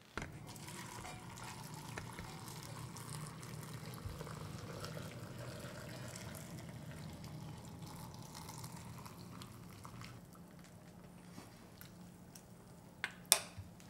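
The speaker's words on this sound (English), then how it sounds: "And then this hot broth I'm going to add right here." Hot broth is poured steadily over pickles in a container, producing a faint, continuous liquid pour that runs for most of the clip, followed by a couple of sharp clinks at the end.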